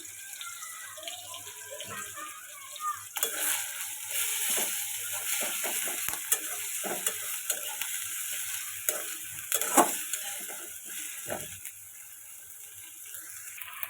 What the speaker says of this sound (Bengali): তেল গরম হয়েছে, এবার দিয়ে দিচ্ছি পেঁয়াজ বাটা। এটাকে ভালোভাবে কষিয়ে নিতে হবে।